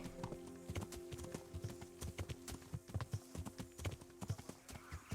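A horse ridden bareback in Kingdom Come: Deliverance clip-clops at a steady walking rhythm, the hoofbeats close, distinct and fairly faint.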